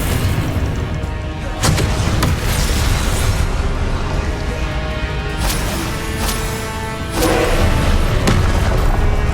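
Confringo spell explosions in Hogwarts Legacy gameplay boom repeatedly, several loud blasts landing amid dense combat noise with a heavy low rumble throughout.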